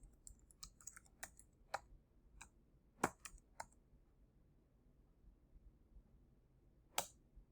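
Computer keyboard keys tapped to type a terminal command, sparse quiet clicks in irregular bursts with pauses, one sharper keystroke near the end like pressing Enter, close and alone.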